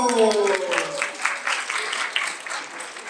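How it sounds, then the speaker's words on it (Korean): An audience of teenagers at a church retreat for missionaries' children breaks into applause, a lively patter of clapping that follows a brief voice at the start. "우리 박수."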